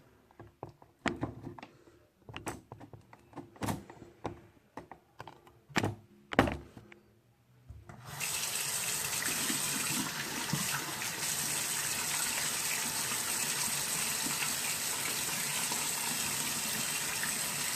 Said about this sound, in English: So let me show you how it does washing your hands.